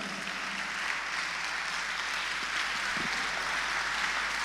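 A church congregation applauding, a dense and steady wash of many hands clapping at even loudness throughout, with no voices standing out.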